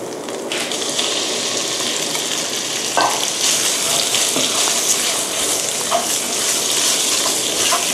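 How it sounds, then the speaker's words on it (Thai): Pork belly being stir-fried with fragrant curry paste in a hot pan gives a loud, continuous, crackling sizzle with occasional scraping from stirring, close up and with no talk. "ผัดให้ทั่วกันนะคะ ให้น้ำพริกแกงกับเนื้อหมูนะคะรวมตัวกัน"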